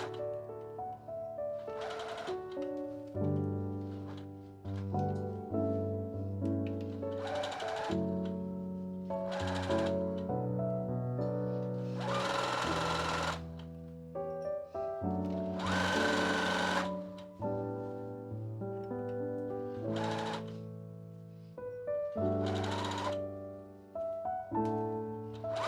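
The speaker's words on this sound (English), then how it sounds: "Sew around the top edge of the bodice, joining the facing to the main fabric." A sewing machine stitches around the top edge of a dress bodice, joining facing to main fabric, in steady runs broken by short pauses where the needle pivots at corners, with soft background music.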